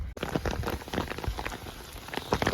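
Rain pattering steadily on a muddy mountain trail in the Canadian Rockies, a dense, close patter of drops with irregular louder taps throughout.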